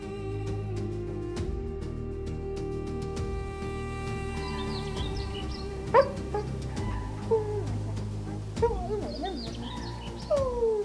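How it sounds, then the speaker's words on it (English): A pack of African wild dogs gives high yips, whimpers and chirping calls over a steady low rumble, with scattered sharp squeaks and rising whines growing busier toward the end. "a pack of African wild dogs moves forward in unison, alert and ready for the hunt ahead"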